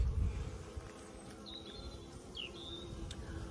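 Honeybees laden with pollen buzz at close range as they return slowly to the hive entrance, a steady low hum with a couple of brief higher chirps over outdoor background.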